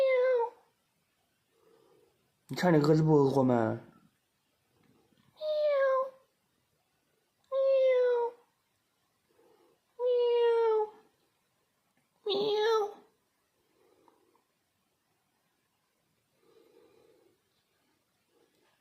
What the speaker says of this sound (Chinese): 你这个猫太淘气了吧！